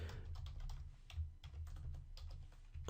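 Rapid computer keyboard typing while jQuery code is written, a steady run of close, dense key clicks with no talking.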